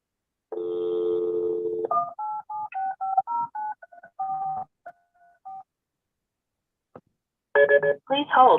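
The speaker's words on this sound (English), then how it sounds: "I'm gonna try and dial him." Telephone keypad dialing tones while calling someone, a string of short beeps of varying pitch after an opening tone, then a pause and another burst of tones near the end.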